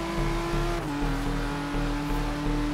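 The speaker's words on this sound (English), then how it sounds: "this car sounds nice" A 2015 Radical RXC Turbo engine revs close by with a steady, deep roar, its pitch briefly dropping as it shifts before pulling on again.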